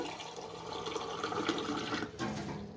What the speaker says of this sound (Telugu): దీంతో 1/2 గ్లాసు నీళ్లు పోస్తున్నాను.